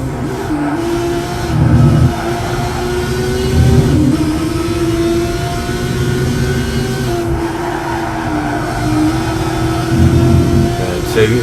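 Onboard a Mazda RX-7 racing in a GT300 league race, the engine drones loudly and continuously, its pitch rising and falling with shifts and corners, with wind noise and a commentator talking over it.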